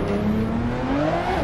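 A Ferrari 599XX Evo rolls onto the track in Assetto Corsa, its engine note rising in pitch as it accelerates, a steady mid-level whine alone without talk.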